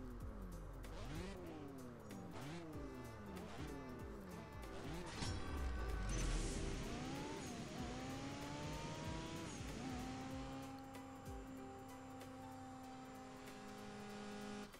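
A race car in the mobile racing game CSR Racing 2 revs hard through a drag race, its engine pitch climbing and dropping sharply with each quick gear shift, then settling into a steady high drone.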